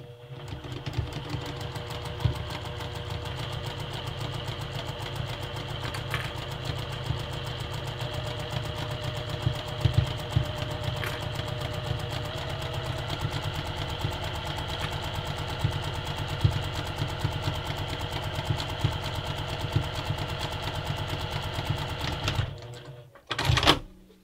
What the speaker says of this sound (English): it's really important to sew with the fabric against the bed of your sewing machine